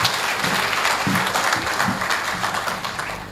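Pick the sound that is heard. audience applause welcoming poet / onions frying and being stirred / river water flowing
audience applause welcoming poet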